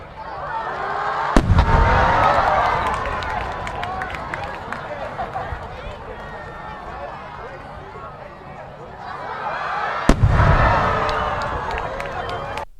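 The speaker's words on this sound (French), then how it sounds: "Le son, quant à lui, peut mettre plusieurs secondes selon la distance à laquelle le feu d'artifice explose." Fireworks exploding in the open air, two sharp booming bursts several seconds apart, each followed by crackling, under continuous narration.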